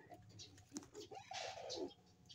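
Pigeons coo softly in a loft after a power outage, a few rounded calls in close succession with faint bird patter around them, quiet and alone.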